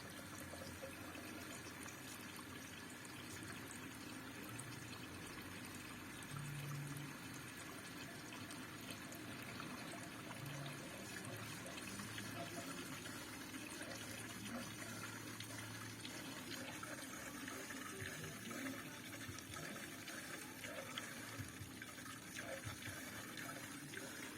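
Water running and filling inside a Hansa dishwasher with a fault, a steady rushing, gushing flow that continues throughout with faint background noise and no talking.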